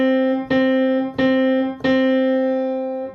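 Middle C struck on a piano as three evenly spaced quarter notes, each a clear, close single tone that rings and fades before the next, with no talking.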